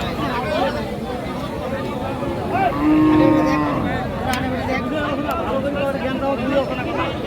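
Cattle at the Aftabganj livestock market, where dry cows and heifers are sold for fattening. One low, drawn-out moo stands out midway over constant close talk and crowd chatter.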